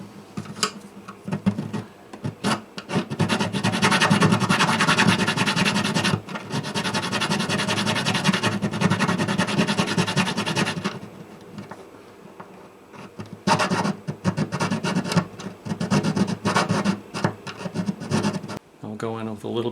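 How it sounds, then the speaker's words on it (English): Small file rasping on wood during the building of a Martin guitar, close repeated scraping strokes in long bursts with a pause partway through, then more filing. "A little file."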